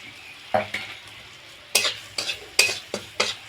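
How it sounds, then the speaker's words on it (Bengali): Turmeric and Kashmiri chilli powder masala sizzles in a pan for a brinjal and hilsa curry, with about six distinct scraping stirs and clinks over a soft frying hiss, close up. "মশলাটা একটু কষিয়ে নেব"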